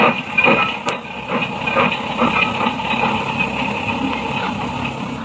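Steady hissing and rumbling of a departing steam train in a 1949 radio comedy, broadband and continuous, with faint rhythmic chuffing and a brief high whistle-like tone near the start.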